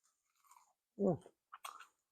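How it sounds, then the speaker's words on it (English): A crunchy bite into a fried squash blossom coated in a light white flour batter, one crisp, close crunch followed by a couple of smaller crackling chews in near silence. "With a nice crunch on them."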